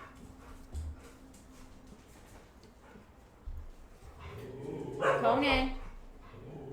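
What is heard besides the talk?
dog barking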